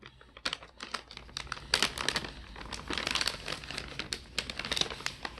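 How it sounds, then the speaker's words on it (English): Close crinkling and rustling of stiff cardstock paper, with irregular taps and scrapes as it is moved about on a hard tray. "Place your cardstock paper in the middle of your tray."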